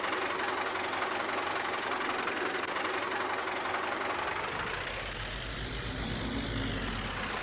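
A Massey Ferguson 285S 4x4 tractor engine runs steadily at close range, a continuous rough diesel knock and rumble that stays loud and even throughout with no voices.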